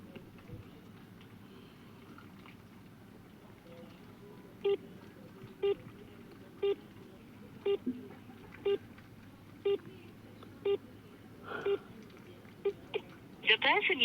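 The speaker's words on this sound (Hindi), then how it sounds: "देखिए हम दोबारा उसको फ़ोन लगा रहे हैं।" A telephone redialing a number, a series of evenly spaced short tones pulsing about once a second, faint and close, with a low background hum throughout.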